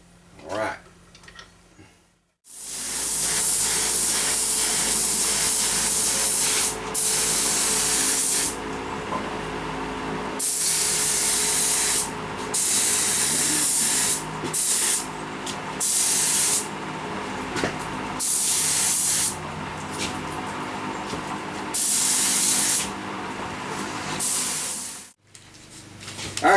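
A spray gun blasts urethane clear coat in long steady hissing bursts, starting and stopping repeatedly with brief pauses and light clicks between passes, close and loud.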